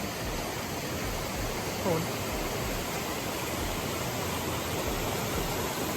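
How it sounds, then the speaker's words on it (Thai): Steady broadband rush of a waterfall at Khlong Nam Lai in Kamphaeng Phet province, Thailand, where the falls run into a clear stream. The roar is constant and fairly loud throughout, with no speech. "สวยครับตรงนี้น้ำตกที่นี่"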